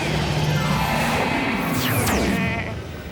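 Cartoon sheep bleating from an animated Garfield episode about counting sheep, a loud continuous bleat over a dense, busy soundtrack lasting about three seconds.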